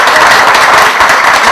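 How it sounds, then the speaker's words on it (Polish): Brief burst of applause for the outgoing village head at a rural village election meeting, loud dense clapping filling the whole moment. "dlatego bardzo proszę o brawa dla niej"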